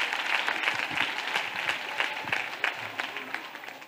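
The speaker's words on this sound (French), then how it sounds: "Acclamation. Clap offering." A church congregation claps and cheers in acclamation during a prayer service, lively rhythmic clapping with a crowd's voices mixed in, loud and sustained throughout.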